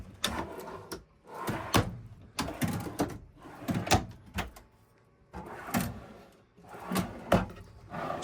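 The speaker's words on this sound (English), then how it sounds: "Drawers." Repeated bumps and sliding clunks as drawers in a 2006 Born Free Class C motorhome are pulled open and pushed shut, several in a row at close range, with short pauses between.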